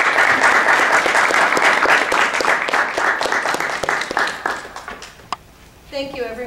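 A room at a school committee meeting breaks into sustained applause that fades after about five seconds, followed by a person starting to speak.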